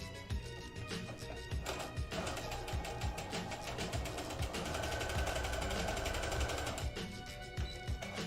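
A domestic sewing machine, freshly rethreaded, runs in a steady fast stitching rattle close up, with small pauses and restarts near the beginning and end.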